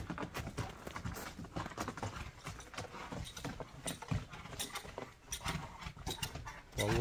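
Racehorse galloping in a horse race, rapid rhythmic hoofbeats thudding close and continuous over outdoor noise, with faint voices in the background.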